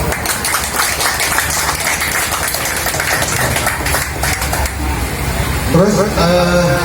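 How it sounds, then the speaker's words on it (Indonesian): A crowd at an outdoor fruit soup contest in a garden applauds a woman, with dense, steady clapping that holds throughout, and a voice rises over it near the end. "Tepuk tangan buat ibu"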